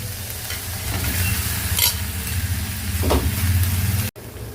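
Tomatoes and vegetables sizzle and crackle steadily in a hot pan, with occasional stirring scrapes, close up and continuous; no voices.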